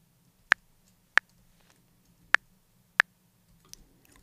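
A Drumbrute Impact metronome click pitched down an octave or two, heard as four sharp isolated ticks spaced unevenly over a quiet low hum, followed by a faint softer click near the end.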